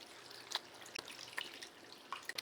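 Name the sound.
water being added to a pot of chicken feet souse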